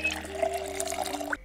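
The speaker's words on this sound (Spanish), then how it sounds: "Y hay que llenar las botellas y todo de agua." Water pouring into bottles in the video game Project Zomboid, a brief steady gurgling fill lasting about a second and a half before cutting off abruptly.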